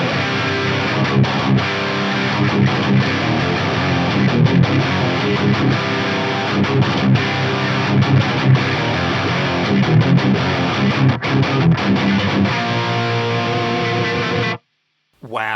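An electric guitar roars through a custom amp with the edge control turned right for even heavier saturation, dense distorted chords and riffs playing continuously and loudly before stopping abruptly near the end.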